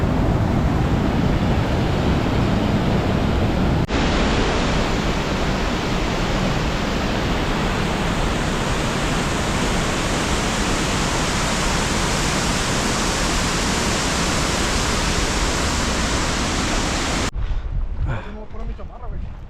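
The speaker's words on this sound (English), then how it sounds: "we're almost at the top of the waterfall" Chilnualna Falls in Yosemite roars close by as a loud, unbroken rush of falling water that holds steady throughout, then cuts off abruptly near the end, where a voice is briefly heard.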